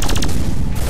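Laser shots fire in Ben 10 Alien Force, a rapid burst of about four sharp zaps in quick succession, followed by a dense, noisy rumble.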